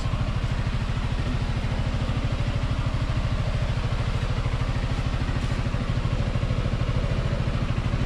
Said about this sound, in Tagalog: Okay pa itong makina nito guys.